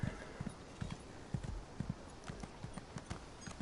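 A horse steed in the video game Elder Scrolls Online trots with steady, rhythmic clip-clopping hoofbeats, close and clear throughout, with no talking.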